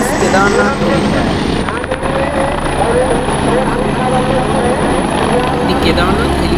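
Helicopter descending toward the Kedarnath helipad, loud steady rotor and turbine roar filling the whole stretch close by, with a constant high engine whine over it.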